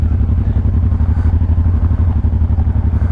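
Enduro motorcycles, including a Honda Transal, ride downhill at an off-road training park, with a loud, close, steady engine drone and rattling chatter running throughout and no one talking.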